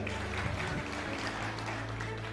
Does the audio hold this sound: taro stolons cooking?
no